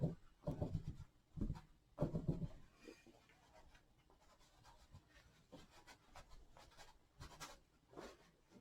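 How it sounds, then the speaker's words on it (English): Paper towel dabbing paint onto a wintery scene painting, a series of soft papery pats and rubs, louder at first then fainter, with quiet brushing between. "Which means it's time for some paper towel method."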